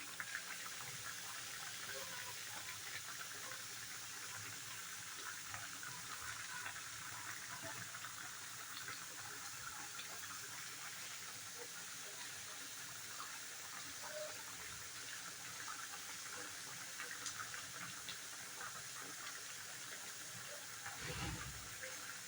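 Water runs steadily from a kitchen tap while chopped coriander leaves are washed, a continuous soft gushing hiss heard up close with a brief splash near the end.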